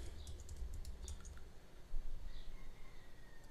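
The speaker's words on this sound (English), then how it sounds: "Type in Terraform." A quick run of soft computer keyboard keystrokes patters in the first second and a half, followed by a few scattered taps and quiet room noise.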